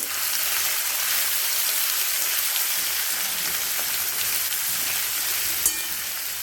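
Chopped onion with garlic-ginger paste sizzles and crackles steadily while it fries for sambar, a dense close frying hiss that holds even throughout, with one small clink near the end.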